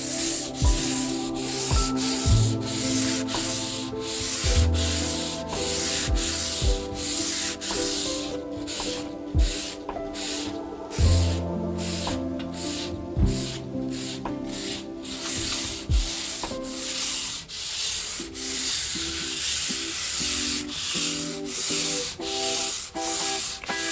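Wood is sanded by hand with 220-grit sandpaper in regular rubbing strokes, heard close and steady throughout beneath music with a strong melodic line.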